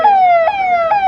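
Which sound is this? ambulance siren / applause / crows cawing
ambulance siren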